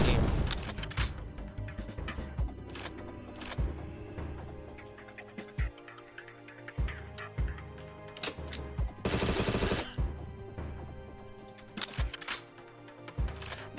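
Rapid gunfire bursts from sci-fi guns in a video game demo, sharp repeated shots and loud crashing volleys in an intense rhythm, with occasional quieter gaps between salvos.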